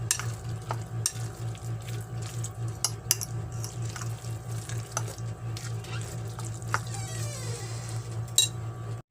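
Lumpia shanghai filling with egg cracked in is mixed by hand, making a continuous wet squishing and stirring rhythm. A low steady hum and scattered light clicks of utensils sit under it, with no speech.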